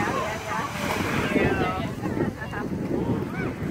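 Sailboat under way on open sea bound for Jost Van Dyke, wind buffeting the microphone over a steady rush of water and waves along the hull, continuous and close throughout.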